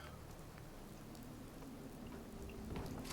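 Rain in the video game Fallout 4, a soft, steady hiss of falling drops with low rumbling underneath, faint and unbroken, no talk.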